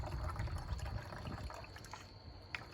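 Water poured into a bottle until it is about half full, a faint low gurgling trickle with small splashes, quiet and close, fading slightly toward the end.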